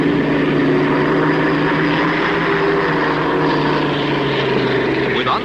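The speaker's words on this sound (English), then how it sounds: "With untapped power to spare in her Rolls-Royce Griffin engine, the Canadian boat speeds into the south turn" Miss Supertest, a Canadian hydroplane racing boat powered by a Rolls-Royce Griffin engine, roaring through a turn during the 1960 Harmsworth Gold Cup, a loud continuous droning engine tone with steady harmonics, close and unbroken throughout.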